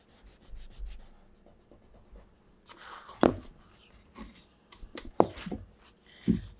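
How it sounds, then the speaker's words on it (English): Kneaded eraser rubbing across a pencil drawing of a shaded cube, soft intermittent scrubbing strokes with a few sharper brushes, quiet and close with no talk. "And I'm using my eraser as a highlighting tool."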